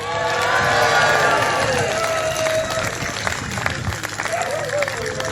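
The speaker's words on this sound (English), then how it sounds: "give him a big round of applause" A crowd at an outdoor rally in Campbeltown applauds and cheers, a dense burst of clapping that peaks early and then thins out, with voices mixed in.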